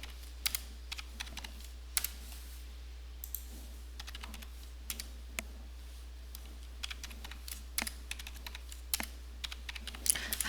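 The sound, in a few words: typing numbers on a computer keyboard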